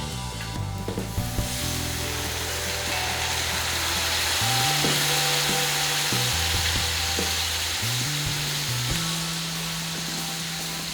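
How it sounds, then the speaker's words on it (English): Red wine poured into a hot sizzling pan of pork for an Italian pork-and-beans dish cooked over fire, a loud bursting hiss that settles into a steady crackling sizzle with scraping and stirring. "Now, deglaze with a full-bodied red."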